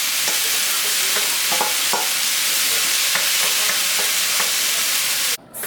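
Chopped onion, tomatoes and cilantro sizzle in a hot pan, a loud continuous frying hiss with scattered pops and crackles, ending in a brief drop near the close; no talking.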